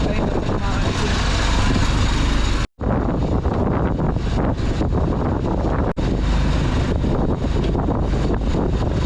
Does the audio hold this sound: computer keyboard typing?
no